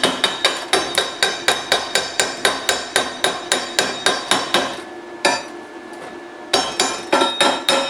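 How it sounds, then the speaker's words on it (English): Sharp metal hammer strikes chip slag off a fresh weld on a broken steel gate rod, falling in a steady rapid series of loud, ringing blows with a brief pause and faint hum before the hammering resumes. "I want to take a little bit of that slag off."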